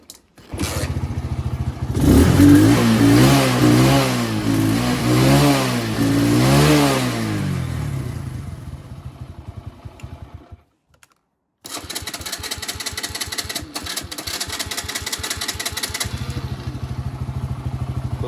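A Mustang motorcycle engine is started with a button and revved several times, rising and falling loudly up close, then goes briefly silent before a rapid, clattering idle resumes.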